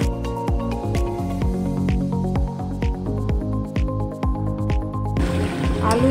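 Potatoes sautéing with mutton in a pan, with wet squishing and stirring scrapes at a steady rhythm, loud and close, turning to a brighter sizzling hiss in the last second.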